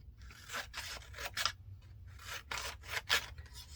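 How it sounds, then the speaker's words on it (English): Scissors snip through a paper license plate cutout for mixed media ephemera, giving a series of close, crisp cutting strokes in short bursts with brief pauses between them, and no voice. "Let me just cut a license plate out."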